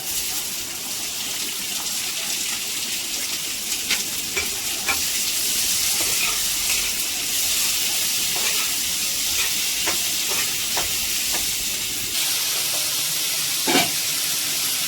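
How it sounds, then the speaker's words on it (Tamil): Onions and green chillies frying in hot oil in a home kitchen pan, a steady broad sizzle and hiss running throughout with occasional stirring clicks and scrapes, close and continuous, no talking. "எண்ணெய் காஞ்சிருச்சு. வெங்காயமும் பச்சை மிளகாயும் போட்டுக்கலாம்."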